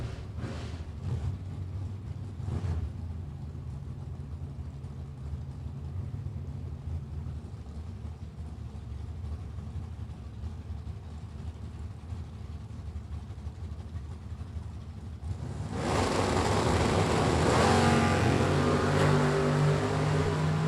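Camaro drag cars, including a 1969 Chevrolet, rumble at the starting line of a drag strip. Near the end a loud, broad engine roar swells as they launch.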